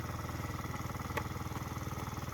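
A Sym Crox 50cc scooter engine idles while warming up, a low, even puttering pulse close by, with one brief sharp click partway through.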